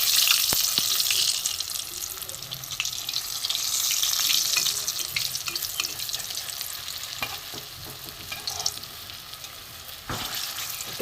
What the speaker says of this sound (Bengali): কাঁচকলার ডিম একটু লাল করে আমি ভেজে নেব